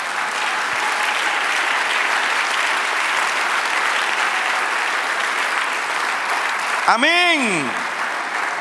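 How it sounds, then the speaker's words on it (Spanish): Church congregation applauding steadily in a dense, continuous wash, then a voice speaking over it near the end. "dale otro aplauso"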